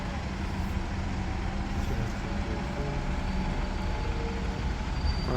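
A Diamond Bus Miller Strata on the 309 route to Cheadle in Stockport rumbles past at street traffic lights, a steady, fairly close engine drone amid road noise.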